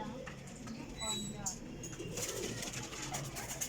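Pigeons and young pigeon chicks cooing softly in a loft, faint low coos and small rustles close by with some background noise, quiet throughout.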